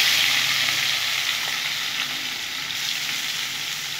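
Onions fry in a pan with a steady, close, bright sizzle that holds even and unbroken from start to finish.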